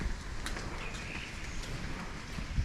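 Starlings chirp and call around cows on a farm, with scattered bird notes and shuffling over a steady outdoor background, moderately distant and fairly quiet.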